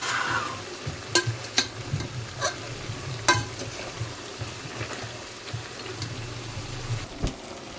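Green masala fries in oil with a low, bubbling simmer, broken by sharp ticks and clicks of a spoon against the pan, close and fairly quiet, with no talking.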